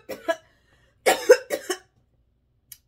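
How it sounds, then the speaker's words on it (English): A person coughs several times in short, sharp bursts, close and loud, followed by a brief pause and a tiny final click. "You made me cough with that book."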